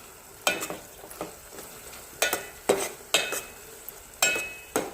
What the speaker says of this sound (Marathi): हे हिरवं वाटण आपण कांद्यासोबत छान परतून घ्यायचं आहे.